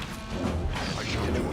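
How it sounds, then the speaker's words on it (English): A shattering shot attack lands in the fantasy role-playing game Dragon Age: Origins, a short sharp crash with a metallic impact rolling into brief combat clatter, loud and close. "Let's go ahead and use a shattering shot."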